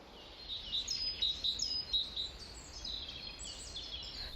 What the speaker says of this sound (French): Tendre l'oreille et écouter le chant des oiseaux.